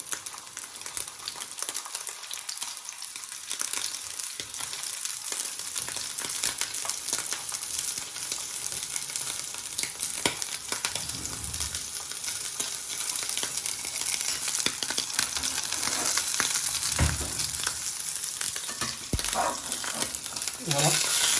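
Beef strips searing in a pan with olive oil and regular oil, a steady close sizzle and crackle throughout with occasional stirring scrapes.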